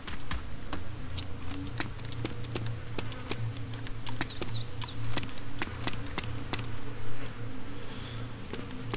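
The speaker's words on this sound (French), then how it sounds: "j'entends des mouches" Flies buzz steadily in the DayZ video game, a constant droning hum mixed with dense crackling clicks and a low rumble, continuous throughout with no talking.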